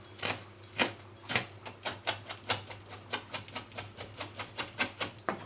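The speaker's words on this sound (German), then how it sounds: "Die Kräuter werden klein gehackt." Fresh sage, rosemary and thyme being chopped with a knife, a steady series of about twenty crisp taps on a board, quickening slightly toward the end, close and clear.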